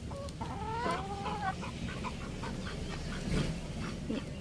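Several chickens cluck and squawk close by in a busy farmyard with ducks, with overlapping bird calls and a steady low background rumble.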